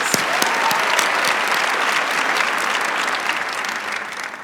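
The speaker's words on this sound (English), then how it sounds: "Let's give us a round of applause." Sustained applause from a university commencement audience of graduates' families and friends, dense and steady clapping that holds loud for several seconds before easing slightly at the end.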